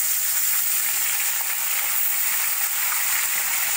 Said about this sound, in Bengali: কড়াইতে তেল দিয়ে দিয়েছি, তেলটা গরম হয়ে গেছে। এবার আমি মাছগুলো ভেজে নেব।